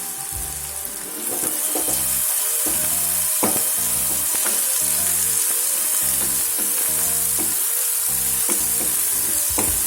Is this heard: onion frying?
yes